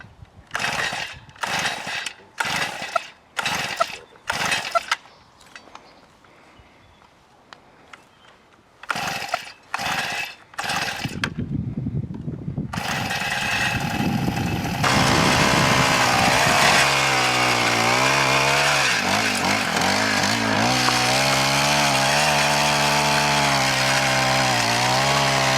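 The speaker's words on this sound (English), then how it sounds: "Now we're going to try the 4-stroke Honda tiller." A Honda four-stroke tiller engine is pull-started with several rapid rope tugs, then catches and settles into a loud, steady running drone that rises slightly and keeps going through the rest of the clip.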